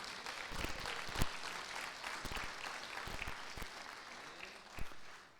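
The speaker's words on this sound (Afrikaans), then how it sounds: "Kom aan, gee die Here 'n lekker hande klap." A church congregation claps their hands together, a soft, continuous patter of many palms heard from a distance and fairly faint, with a few sharper claps standing out and no voices.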